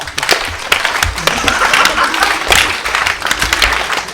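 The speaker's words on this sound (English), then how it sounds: "Do some proper sarcastic clapping," At a cinema Q&A, an audience breaks into deliberately sarcastic clapping, a loose, fairly loud burst of many hands with scattered louder claps and some crowd noise, lasting about four seconds.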